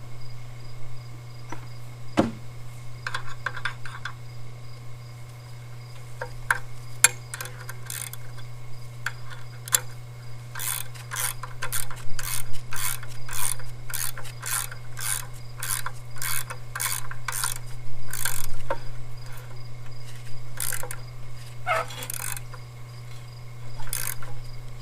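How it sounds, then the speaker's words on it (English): A hand wrench turns a threaded roller part, giving rapid rhythmic ratcheting clicks that speed up into a dense run midway, under a steady low electrical hum, with no talking. "I'll get the wrench."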